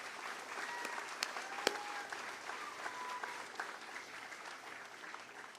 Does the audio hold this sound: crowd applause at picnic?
yes